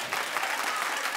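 A studio audience at a talk show breaks into steady, dense clapping that fills the whole moment, loud and close with no speech over it.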